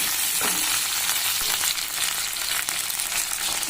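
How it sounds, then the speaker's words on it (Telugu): Dried red chillies fry in hot oil for a Rayalaseema-style sambar, giving a steady, dense close-up sizzle throughout with a few faint stirring scrapes and no talking. "ఈ రాయలసీమ స్టైల్ సాంబార్ కొట్టి మిరపకాయలు కూడా వేసేసాను. బాగా వేగాలి."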